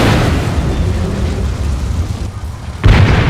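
Heavy artillery cannon fire booms in the video game Resident Evil 6, a loud low rumble that holds for over two seconds before a sharp new blast hits near the end.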